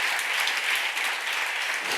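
A church congregation claps together during a sermon, a dense continuous burst of applause, loud and close, with no voices over it.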